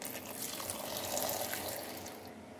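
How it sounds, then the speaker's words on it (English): Water pours steadily into a blender for a couple of seconds, a continuous splashing rush that tapers at the end. "I'll add in water."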